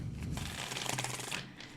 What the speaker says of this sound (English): So let me give these cards a shuffle.